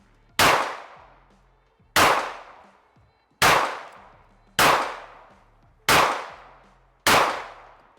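Six sharp, loud 9mm shots from a 1911 pistol strike armor at a steady pace about one to one and a half seconds apart, each with a ringing decay.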